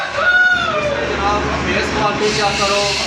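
At a rooster shop, a Sindhi-breed rooster crows loudly and close, with long drawn-out calls over a busy background, while people talk.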